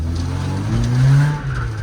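A BMW E36 engine revs hard while drifting and rises in pitch, loud and close, with a brief surge in the middle.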